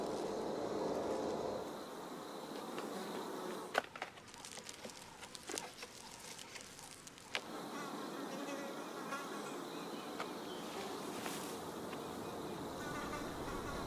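Tiny Encarsia parasitic wasps, under a millimetre long, working among crop plants in a biological pest control setting, with a steady insect buzz and small patters and clicks, louder in stretches with a quieter break midway.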